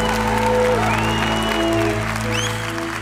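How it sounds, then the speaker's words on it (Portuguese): Church concert audience applauding together in a steady, sustained wash of clapping that stays loud throughout, with music-like tones held underneath. "Vamos aplaudir o Senhor misericordioso, o coração misericordioso de Jesus por nós."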